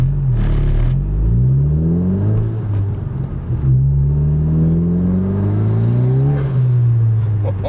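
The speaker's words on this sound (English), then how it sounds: "The spool sounds nice." Turbocharged 10th gen Honda Civic Si engine revving in sport mode with the turbo spooling up, loud and close, pitch rising and falling through several sustained pulls.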